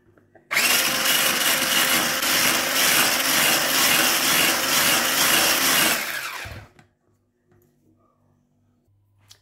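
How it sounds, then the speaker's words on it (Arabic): A blender whirs loudly and steadily for about six seconds, churning an ice cream cake mixture, then cuts off abruptly into near silence with faint room sounds. "ودابا غندرب الكل."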